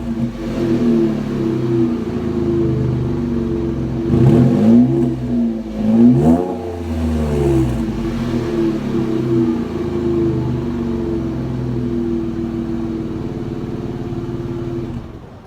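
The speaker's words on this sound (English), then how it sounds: "So I'll do a little rev up for you." A 2017 Chevy Colorado V6 pickup with a newly installed aftermarket exhaust revs repeatedly, holding a steady deep idle-like drone broken by two sharp rising revs in the middle, loud and close, with no talking.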